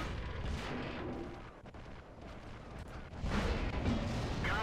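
A Wespe self-propelled artillery gun in World of Tanks fires a shot, a heavy booming blast with a loud burst late in the clip over dense, continuous battle noise.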